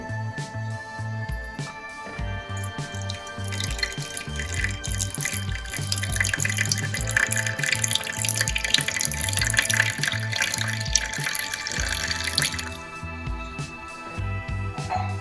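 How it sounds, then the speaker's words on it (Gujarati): Hot coffee poured through a strainer into a cup, a steady trickling and splashing stream that swells in the middle before easing off, with faint clinks. "તો હવે આપણી જે કોફી છે તેને આપણે ગાળી લઈશું।"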